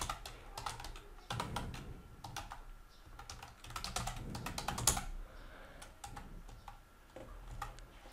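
Computer keyboard typing as a new email address is entered, with quick bursts of light key clicks separated by short pauses, close and fairly quiet, with no voices.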